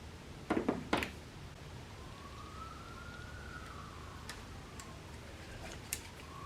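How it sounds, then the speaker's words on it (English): A distant siren wails faintly in the background, rising and falling over quiet ambient noise, with a few sharp clicks near the start. "There's our obligatory sirens."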